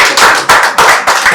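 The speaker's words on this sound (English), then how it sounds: "Why is my clap so low?" Four loud, close hand claps spaced evenly about a third of a second apart, each a sharp crisp burst in a slow steady rhythm.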